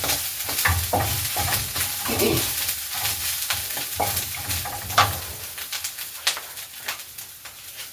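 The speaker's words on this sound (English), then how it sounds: "For me, I'm going to fry it, and I'll just fry it with some onions, garlic and ginger." Lake Victoria sardines fry in a pan with onions, garlic and ginger, giving a continuous crackling sizzle and scattered utensil scrapes, with a faint bird cooing in the background.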